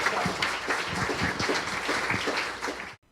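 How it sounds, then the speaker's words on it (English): An audience at a News Geezers lunch gathering gives a round of applause, a dense, steady patter of many hands clapping close by for about three seconds before cutting off abruptly. "Big round of applause for Wendy"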